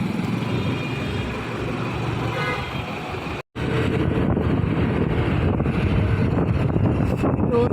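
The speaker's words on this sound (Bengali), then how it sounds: "যেমন আছে হাওয়াও তেমন দিচ্ছে" Steady broadband wind rushing across an empty open field used for circuses and fairs, loud and continuous against the microphone, with one brief dropout midway.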